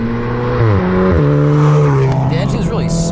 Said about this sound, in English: The engine's really smooth.